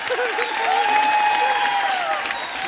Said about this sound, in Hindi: आप ताली बजा के मजा लेने का।